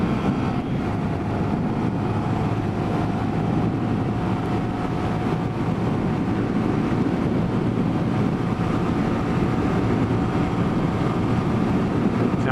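A Honda Grom motorcycle held at full throttle, a continuous steady engine drone heavily mixed with wind rush as it rides at speed.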